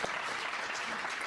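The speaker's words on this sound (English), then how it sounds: "give a good round of applause there" Steady, dense applause fills a business talk as the audience claps for a speaker, a continuous wash of many hands with no pauses.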